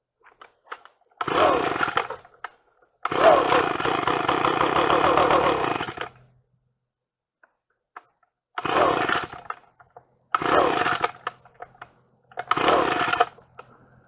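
An Echo PB-250 two-stroke leaf blower with a suspect carburetor sputters to life in short bursts, revving loudly for a second or three before dying, with one longer run, separated by silences.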